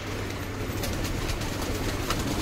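A milk-white Kashni Maksi hen pigeon of a Hyderabadi breed gives soft coos, partly buried in a steady wash of loft background noise, with no talking.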